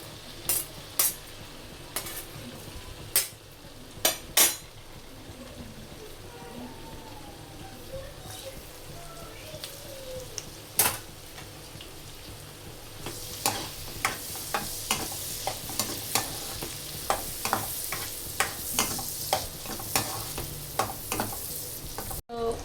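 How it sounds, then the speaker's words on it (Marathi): Finely chopped onion frying in butter in a pan on the stove, a steady soft sizzle under repeated sharp taps and scrapes of a stirring spoon against the pan, growing busier toward the end. "आता मी ऑनियन टाकते, मी इथे बारीक बारीक चॉप केला होता।"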